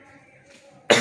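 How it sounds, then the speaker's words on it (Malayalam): A single loud, close cough bursts out abruptly at the end after near silence. "ചുമ ഇപ്പോഴും മാറിയിട്ടില്ല."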